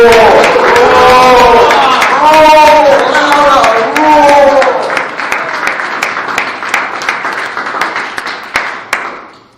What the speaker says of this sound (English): let's give a huge round of applause for our resident Tolu